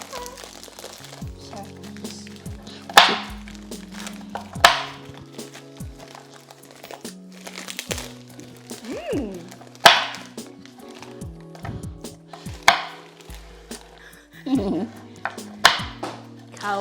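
A knife cuts Oreo biscuits for a lolly cake, making a series of sharp, close thunks and crunchy snaps on a board at an uneven rhythm, mixed with crinkling, over a quiet background bed.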